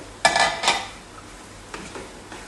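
Chicken added to a pot of softened onions, two clanking metallic knocks of utensil against pan, followed by faint lighter clinks over a quiet background.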